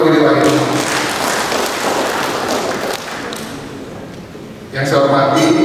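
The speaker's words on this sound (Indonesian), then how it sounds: "Tepuk tangan buat Firi Wahid." Applause breaks out at an Indonesian government event led by a governor, with clapping mixed among thumps and a crowded hall, tapering midway before swelling again near the end while a speaker's voice carries through.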